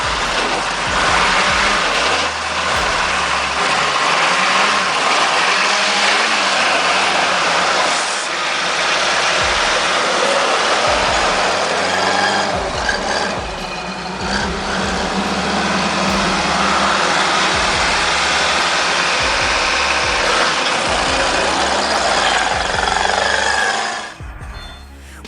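A UAZ off-road vehicle charging a ditch head-on, its engine roaring loudly and steadily with rough, straining surges and clattering jolts for most of the run before it abruptly cuts out.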